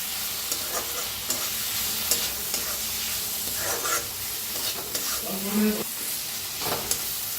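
Spice masala of coriander powder and red chili powder roasts in a pan for a cauliflower and potato curry, giving a constant broad sizzle with scattered scraping strokes of a spoon, close and steady, with no talk.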